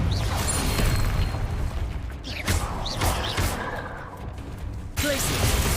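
Confringo fire blast spell in Hogwarts Legacy, heard amid busy game combat as a series of thuds, bangs and crashes with brief pauses, one hard hit landing near the end.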